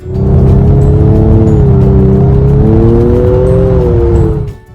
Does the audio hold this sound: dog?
no